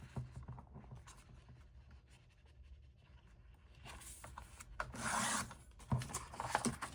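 Paper is cut and handled up close for a flip flop journal: soft scraping and rustling, with a louder, brisk burst of cutting near the end.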